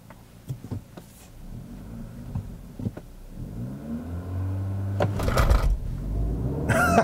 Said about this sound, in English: let's just try a quick launch in this car